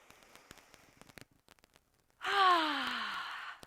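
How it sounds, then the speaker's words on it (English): A single breathy exhale pushed out through the mouth during a yoga session comes in close and fairly loud, falling in pitch and fading over about a second and a half after a near-silent pause with faint clicks. "take a nice inhale through the nostrils and exhale out through the mouth for a cleansing breath"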